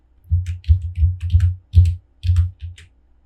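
Someone types on a computer keyboard: short, crisp clusters of key clicks with soft thumps, close and clear, in an irregular rhythm with brief pauses and no talk.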